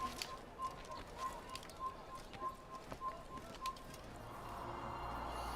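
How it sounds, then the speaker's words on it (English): A bird coos in the video game Assassin's Creed, giving soft repeated coos in an uneven rhythm close to the character, over a faint ambient background. "Hey look, that bird landed on me."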